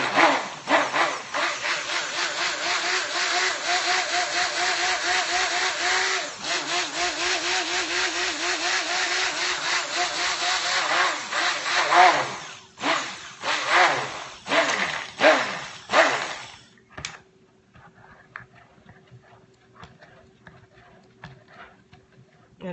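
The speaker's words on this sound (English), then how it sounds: "what I'm doing is just blending my clay and my oats" An electric blender whirs loudly and steadily for several seconds while blending clay and oats for soap. It then stutters through a series of short pulses before stopping, leaving a faint hum.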